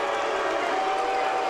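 Arena crowd at an MMA event, Batista versus Vince Lucero, reacting with a steady, loud, dense roar of displeasure, continuous throughout with no clear breaks.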